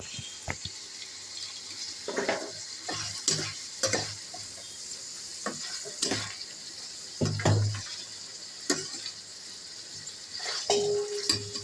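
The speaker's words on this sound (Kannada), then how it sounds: "ಇವಾಗ ಅದು ಫ್ರೈ ಆಗ್ತಾಯಿದೆ. ನಾವು ಟೊಮೆಟೊನೂ ಹಾಕ್ತಾಯಿದ್ದೀವಿ. ಟೊಮೆಟೊನು ಫ್ರೈ ಆಗಬೇಕಲ್ವ." Tomatoes frying in a kadai for a homemade mushroom curry give a steady close sizzle, broken by sharp scraping stir strokes and occasional clinks, with no talking.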